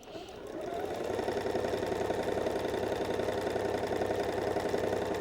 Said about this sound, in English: make another row of gathering stitches, about 1/4 to 1/2 of an inch away